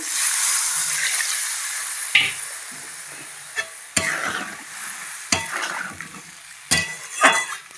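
Water hits fried spice masala in a hot pan, setting off a loud hiss of sizzling that eases into intermittent spoon scrapes and clinks against the cookware up close.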